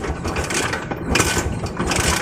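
A motorcycle engine runs steadily and loudly nearby, a rough continuous rumble with slight swells in intensity.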